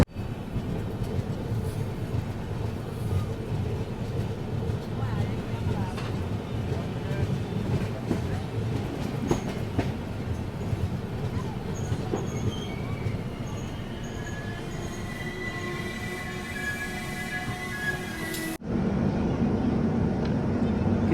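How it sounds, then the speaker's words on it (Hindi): A steady, low rumble and hum inside the Kathgodam Shatabdi Express on a single track, with people talking over it throughout. The sound shifts abruptly to a fuller, louder drone near the end. "किसी पैसेंजर ट्रेन के कारण शताब्दी एक्सप्रेस रुक रही है"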